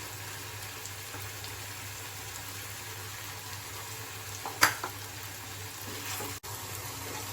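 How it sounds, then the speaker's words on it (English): Chopped vegetables frying in a pan for vegetable poha, a quiet, steady sizzle with a couple of faint clinks midway; no talk. "first we have to fry all these veggies."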